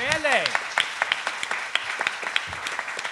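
Audience clapping breaks out at a Dungeons & Dragons panel at Lucca Comics & Games, scattered claps under a host's speaking voice, with a short cheer near the start.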